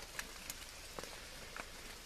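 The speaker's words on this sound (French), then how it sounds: "Par contre réveil sous la pluie ce matin." Morning rain falling on and around a camping tent, a soft, even patter with a few louder individual drops landing nearby.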